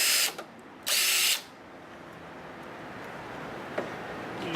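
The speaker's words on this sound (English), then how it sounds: "This is Impact drill." Two short bursts of an impact drill driving a screw, the second longer, followed by a quieter stretch of background noise with a couple of faint clicks.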